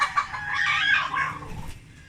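Chickens clucking and calling close by, with a dense layer of overlapping hen vocalizations through the whole stretch and a few lower rustles underneath; no talking.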